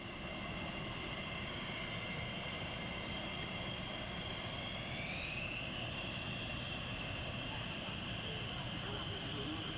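A military jet taxiing at RAF Lakenheath gives a steady, distant engine roar and high whine that rises slightly midway and holds throughout, with no clear speech.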